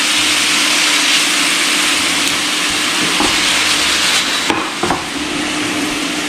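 Marinated beef sautéing in a hot pan with some of its juice, giving a steady, close sizzle with faint stirring clatter and a couple of brief scrapes near the end, no voices.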